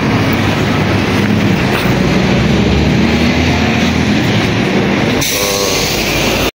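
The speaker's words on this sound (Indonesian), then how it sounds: "Bandara stasiun Jeddah. Kereta api cepat." A high-speed train runs at the Jeddah airport station, its loud, steady rumble and rolling wheel noise filling the clip and continuing right up to a sudden cutoff.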